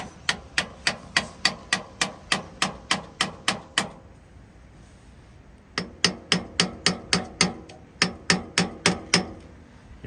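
Gentle metal hammer taps on a stuck injector of an Alvis Stalwart, a steady run of evenly spaced light strikes, a pause of a couple of seconds, then another series of taps.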